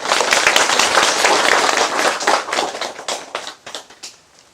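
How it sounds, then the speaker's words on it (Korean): A crowd applauds a senior Buddhist monk after his Buddha's Birthday dharma talk, dense clapping that holds steady, then thins into scattered claps and fades out. "오늘 감사한 말씀 내려주신 큰 스님께 다시 한번 큰 박수 부탁드리겠습니다."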